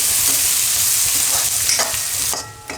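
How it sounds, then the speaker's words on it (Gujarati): Onions fry in oil for Gujarati gunda gravy shaak, a loud continuous sizzle close up, with a few scraping stirs of the spoon near the end. "તો ડુંગળીને આપણે થોડીક વાર ચડવા દેવું, આમાં વચ્ચે વચ્ચે હલાવતા રહેવું."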